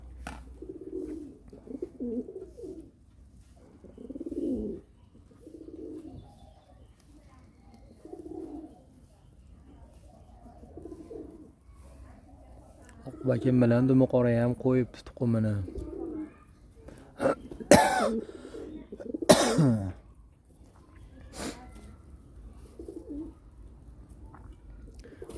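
Pigeons kept at home in spring, nesting with eggs, give soft low repeated coos in a steady rhythm close by, mixed with a person talking throughout and a few sharper clicks and knocks later on.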